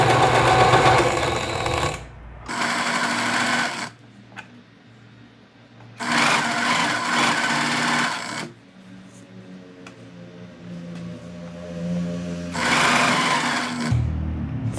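Sewing machine stitching the lining fabric of a tailored circle skirt, running in loud bursts of steady motor whirr and needle chatter separated by quiet pauses.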